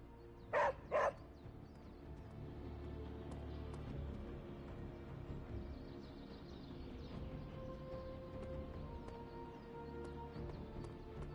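Charlie the dog barks twice, sharp and close, in Marvel's Midnight Suns, followed by a quiet ambient hum of the game scene.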